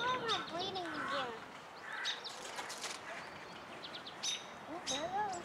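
Several birds call and chirp in a burst of sharp, repeated outdoor cries while chasing a squirrel during a standoff, the calls rising and falling close by with a voice talking at moments underneath.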